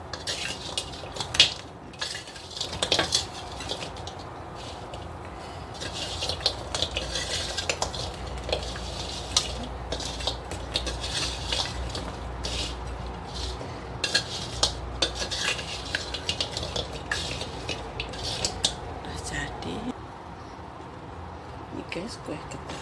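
Sticky sugar dough for kue getas being stirred in a pan, giving a steady scraping and clattering of utensil against metal throughout, with faint sizzling underneath and some background noise.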